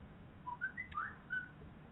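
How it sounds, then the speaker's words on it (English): A person whistles a short tune of bright, clear notes, fairly faint, over a low steady background rumble. "That's someone's whistling for you."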